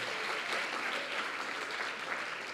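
Church congregation applause during a sermon, a short, steady wash of clapping at moderate distance, without any voice over it.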